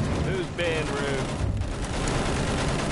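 Rapid video game gunfire in a Conquest match, with loud sustained bursts layered under overlapping voice chat and whistling, sweeping game effects.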